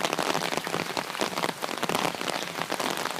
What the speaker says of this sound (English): Rain's getting harder, thicker.